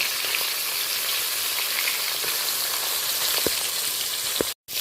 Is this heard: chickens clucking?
no